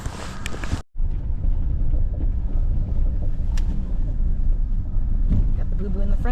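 A truck driving out to fetch water on an off-grid property, a steady low engine rumble with wind buffeting the microphone, following a brief voice at the start.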